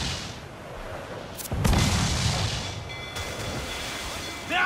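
Ship cannons firing during a naval battle in the video game Assassin's Creed IV Black Flag: a heavy booming blast rolls out mid-clip over constant ambient rumble, with a later sharp burst near the end.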